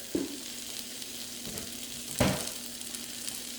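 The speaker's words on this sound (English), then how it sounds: "I like the onions to get a little caramelization from the butter." Onions frying in butter in a pan give a continuous soft sizzle, broken by three sharp utensil scrapes or clinks at irregular intervals.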